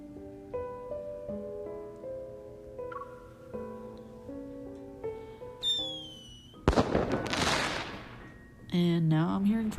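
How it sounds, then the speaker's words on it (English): Fireworks burst at dusk in the video game Love & Deepspace: a sharp crackling blast follows a rising whistle, then a second burst, over gentle melodic music. "And now I'm hearing fireworks."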